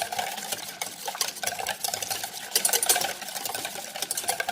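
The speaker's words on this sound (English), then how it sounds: "we're going to break up the egg, and we're going to give this a good mixing" An egg is whisked in a bowl for pancake batter, rapid light clicking and tapping of the utensil against the bowl in a steady, busy rhythm, close and fairly loud throughout.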